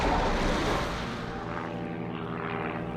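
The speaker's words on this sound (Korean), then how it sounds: "그의 활약으로 비행기는 무사히 날아오르게 되지만" A propeller airplane takes off in the Mad Max film, its engine roaring loud and close before easing slightly into a sustained droning hum, with no voices.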